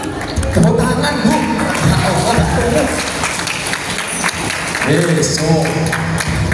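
Women in a mosque audience at a Maulid Nabi gathering clap together in a lively burst of applause mixed with voices, close and fairly loud throughout.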